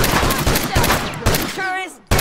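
Machine-gun turret fire in The Last of Us, a dense run of gunshots mixed with shouting voices and game effects, ending in a brief drop before another burst.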